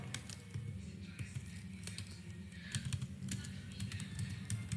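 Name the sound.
typing switch commands on a computer keyboard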